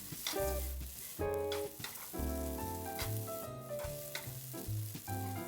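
Flat rice noodles for dry-fried beef ho fun sizzle in a hot wok, a continuous close frying hiss that swells in bursts, running beneath melodic background music.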